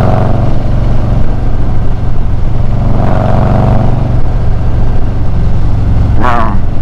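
A Harley-Davidson motorcycle with a Trask Power Plate rides along a road, its engine droning loud and steady from close by under wind noise, with a brief sharp rev near the end.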